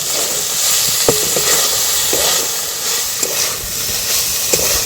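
Chicken seasoned with soy sauce sizzles loudly in a hot pan under a constant hiss, while a spatula scrapes and stirs at a roughly even rhythm.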